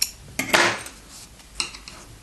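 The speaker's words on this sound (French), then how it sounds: "Je fais une maille en l'air et je coupe mon fil." Scissors snip through crochet yarn while finishing a ladybug-shaped potholder: a quick pair of crisp metallic cuts near the start, then a softer single snip a moment later, close and otherwise quiet.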